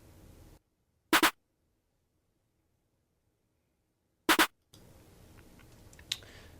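An accent snare from an FL Studio beat plays as two sharp, isolated hits about three seconds apart against silence, followed by a quiet stretch of backing music.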